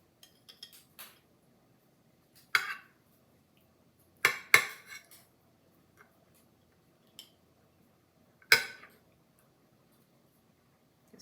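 A spoon scooping into a canned potato casserole with bacon and onion, giving a few scattered, sharp scraping clinks against the dish at irregular intervals in an otherwise quiet kitchen.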